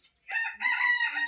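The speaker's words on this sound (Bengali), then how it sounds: "হাঁস মুরগি কবুতর গুলো ছেড়ে দিয়েছি, ওরা ক্ষুধা লাগছে, খাওয়া দাওয়ায় ব্যস্ত আছে এখন।" Farmyard fowl let out to feed, with a rooster crowing in a short close call over a brief faint cluck, no talk.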